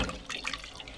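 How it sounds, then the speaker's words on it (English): Water is hand-pumped into the bowl of a Jabsco manual marine toilet, a steady close-up splashing and gurgling rush that lasts about a second. "Right, you pump some water into the bowl."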